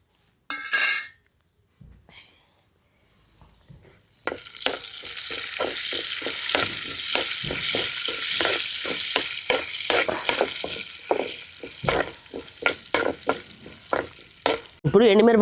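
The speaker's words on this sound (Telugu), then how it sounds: "ఆవాలు, పచ్చిపప్పు, జీలకర్ర, సాయి పెసరపప్పు ఇవన్నీ వేసుకొని వేయించుకుందాం" Mustard seeds, chana dal, cumin and split moong dal dropped into hot oil for tempering: after a quiet start with a few clinks, a loud, dense sizzle erupts and continues, broken by rhythmic stirring scrapes against the pan.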